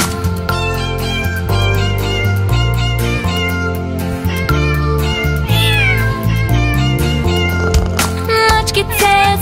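A kitten meows within a children's song, with its cries mixed in over the steady, loud musical backing.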